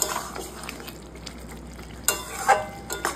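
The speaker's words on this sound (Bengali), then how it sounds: "ভেজে রাখা মাছগুলো দিয়ে দিচ্ছি লাউয়ের মধ্যে" Fried fish pieces going into a pot of simmering bottle gourd curry, with a soft wet clatter and brief scraping as they land, then a louder splash and bump near the end, all close up without speech.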